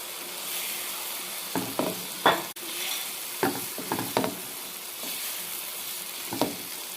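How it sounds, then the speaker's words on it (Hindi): Rava stirred into frying masala in a pot for a desi-style curry: quiet background sizzle broken by a series of close spoon scrapes and knocks against the pan, with one sharp clack midway. "और अब इसके अंदर ये मैं रवा डाल रहा हूँ"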